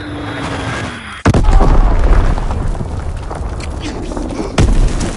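Heavy bomb blasts from an Azon bomb air strike in a video game, with one sudden deep boom and then a sustained rumble, a second boom near the end, and game radio voices talking over it.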